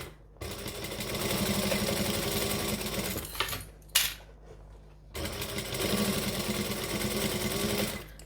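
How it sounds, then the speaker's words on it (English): Sewing machine stitching a bag, running in a steady close whir, pausing briefly with a click and short back stitch, then resuming at an even pace. "I'm going to stitch, back stitch, and then off I go"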